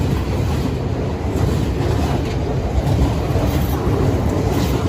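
A Class 800 train pulls out of Lincoln heading for Doncaster, giving a steady, loud, close rumble with rail noise that holds constant for the whole few seconds.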